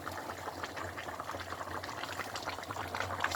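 Pot of ogbono soup at a rolling boil, a dense continuous bubbling and popping that stays close and even throughout with no talking.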